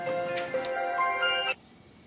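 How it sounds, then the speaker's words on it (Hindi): A mobile phone rings with a short melodic ringtone of bright electronic tones, close and clear, stopping abruptly after about a second and a half. "ओ मेरा फोन।"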